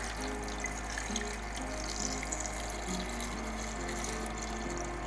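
Water pouring steadily into a pot of pork sinigang made with pata (pork leg) and fish sauce, a soft continuous trickle and splash heard close and fairly quiet throughout.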